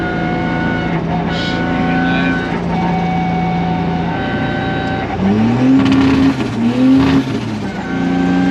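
A 2JZ-swapped rear-wheel-drive Subaru Impreza tuned to 600 bhp, its engine droning loud and close from inside the cabin, then climbing sharply through rising revs after a downshift, with speech breaking in at moments.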